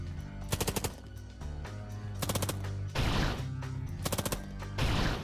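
Enemy gunfire in the video game Long Gone Days: loud rapid machine-gun bursts in several short volleys, separated by brief pauses with heavier blasts between them, alone without talk.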